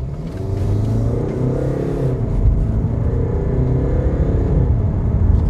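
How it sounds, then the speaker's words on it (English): A Jaguar E-Pace diesel engine revs with a steady, loud low rumble that swells slightly, heard up close with no talking. "just so you can hear what the diesel engine sounds like"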